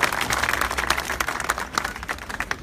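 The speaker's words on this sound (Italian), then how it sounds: "Un applauso." Outdoor crowd clapping at a Matteo Salvini political rally in a town square in Montenero di Bisaccia, Molise, a short burst of scattered applause that thins into uneven individual claps.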